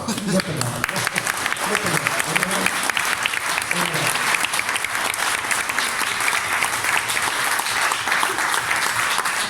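Dense, sustained applause from a large crowd at a CGT union congress in Tourcoing, steady and loud throughout with scattered voices mixed in.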